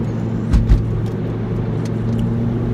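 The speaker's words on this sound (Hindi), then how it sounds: "अगर आप इसी गियर से एक्सेलरेट करना चाहेंगे तो थ्रॉटल का रिस्पांस बहुत अच्छा है" A Toyota MR-S with a swapped-in 2ZZ engine pulling in third gear: a loud, steady engine drone heard from inside the car, with a couple of brief thumps early on.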